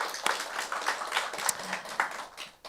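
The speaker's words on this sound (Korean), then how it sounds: "하나님께 다시 한번 영광의 박수 올려드리겠습니다" A church congregation applauds during a Sunday worship service, a short burst of scattered clapping from a modest crowd, fairly faint and uneven, thinning out toward the end.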